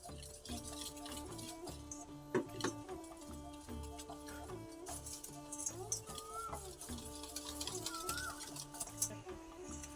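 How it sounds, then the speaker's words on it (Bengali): Gram flour batter being whisked with water, heard as a steady run of light, quick tapping and scraping against a bowl, fairly faint and close, under an ongoing melodic music track. "এবার জল দিয়ে আস্তে আস্তে অল্প অল্প জল দিয়ে আস্তে আস্তে ফেটিয়ে নেব"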